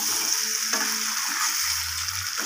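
Chicken feet with potatoes and green chilies sautéing in a pan, a steady close sizzle with a few soft stirring scrapes, no voices.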